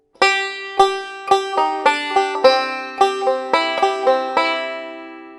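A plucked banjo plays a short melody in C position alone, bright notes ringing out one after another in a steady rhythm before fading away.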